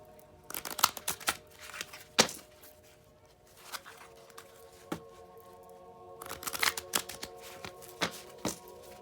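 Tarot cards being shuffled by hand, with quick riffling and flicking bursts at the start, the middle and near the end, close and fairly quiet against a low steady hum.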